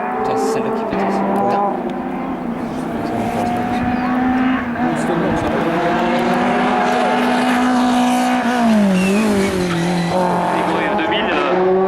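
A race car at a 2018 national hill climb in Hébecrevon drives past at speed, its engine note rising and falling loudly and steadily, with a brief tire squeal. A commentator speaks over the engine throughout.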